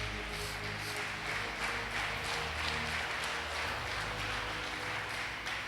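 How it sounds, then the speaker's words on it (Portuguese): A church congregation applauding for Jesus: a dense, steady wash of many hands clapping that carries on without a break for several seconds, with no distinct voices above it. "Joga sua mão para cima, dá uma linda salva de palmas para Jesus"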